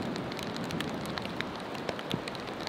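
Rain patters steadily on a mountaintop as thunderclouds roll in, a soft, even hiss of drops with a few sharper taps, heard alone and fairly faint.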